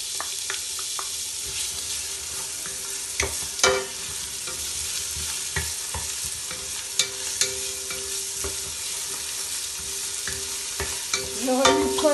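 Chopped onions and ginger frying in a pan for a fish and vegetable soup, a constant bright sizzle with scattered scraping stirs and utensil taps, close and steady, no speech.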